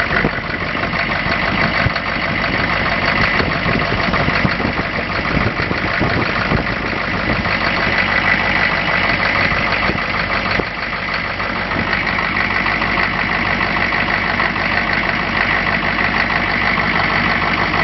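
A diesel engine with glow plugs runs steadily at idle, a continuous, loud mechanical drone with a constant rhythm and no talking over it.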